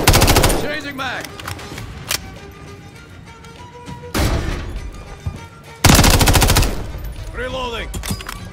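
MTZ-556 rifle fire in Call of Duty Modern Warfare 3 multiplayer, three loud close bursts of rapid automatic shots separated by quieter stretches of game ambience.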